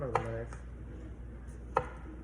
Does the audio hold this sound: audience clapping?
no